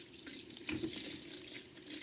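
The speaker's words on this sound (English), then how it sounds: "we just basically take distilled water and we fill this up" Distilled water pours steadily into a container for a record-cleaning solution, a soft continuous trickle with small splashy accents, close by and fairly quiet.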